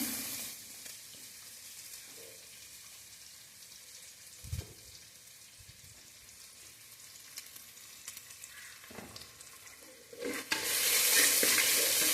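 Small shallots frying in a pan for a sardine curry, giving a soft continuous sizzle with occasional stirring knocks and a louder hiss swelling near the end, heard alone without speech.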